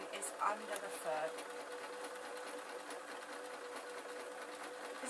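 A sewing machine stitches the ribbing of a sock in a steady, fairly quiet mechanical whir with faint rhythmic clicks, and a person talks softly over it.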